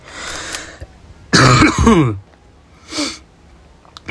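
A person coughs and clears their throat nearby, a strong rough burst in the middle with quieter hacks before and after.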